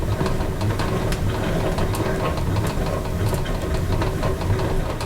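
Hand-cranked yarn ball winder spinning yarn on a table: a steady, continuous mechanical whir with a faint rattle, close and even in level throughout.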